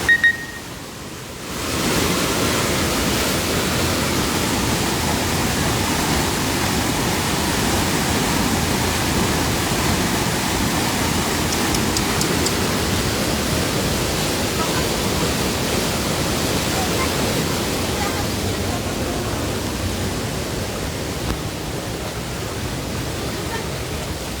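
Rushing floodwater from an overflowing river in Ambuklao roars steadily and loudly without a break, a dense, constant wash of sound that fills the whole clip.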